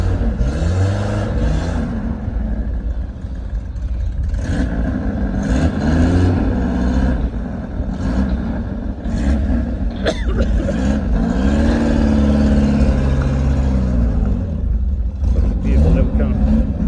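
Pinninfarina-built original 1.6 Peugeot 205 CTI barn find idles and revs nearby, a steady low engine drone rising and falling in pitch, with people talking over it throughout.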